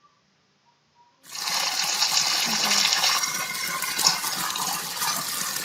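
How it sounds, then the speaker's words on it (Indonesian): Water pours from an Aqua bottle in a steady, fairly loud rushing gush that starts suddenly after a near-silent opening and continues to the end; a voice speaks briefly beforehand. "Ini adalah video air mengalir."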